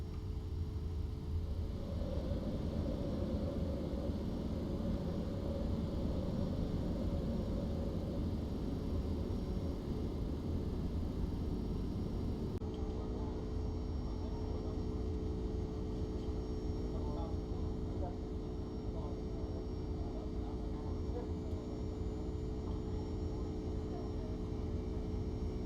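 Boeing 767-400ER jet engines at high thrust climbing out after takeoff in the X-Plane 12 flight simulator, a loud, steady roar with a sustained tonal whine that shifts partway through, with no talk over it.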